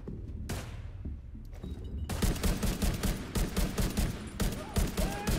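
Gunfire in Tom Clancy's The Division 2 during a hostage rescue: a few isolated shots, then a dense rapid burst of rhythmic automatic fire, loud and close, with faint game ambience under it.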